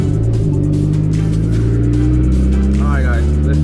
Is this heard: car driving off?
yes